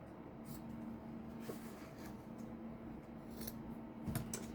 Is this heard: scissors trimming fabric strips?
yes